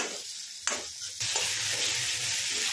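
Chopped tomato frying in a pan for a spinach and tomato curry, a steady close sizzle with a brief stir or clatter near the start, no talking.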